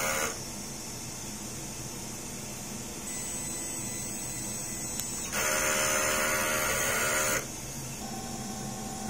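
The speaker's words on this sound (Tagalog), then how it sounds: "Ganito naman mag-head clean. Pindutin lang natin ng clean" A DTF printer runs a head cleaning cycle: a steady mechanical whir throughout, then a louder, brighter buzzing motor burst kicks in for a couple of seconds before dropping back to the hum.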